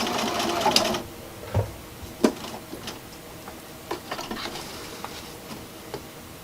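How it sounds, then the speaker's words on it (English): Domestic sewing machine running in short bursts while backstitching the binding on a quilt, a brief rapid run at the start followed by scattered clicks and light mechanical taps, close and fairly quiet. "I'm going to backstitch."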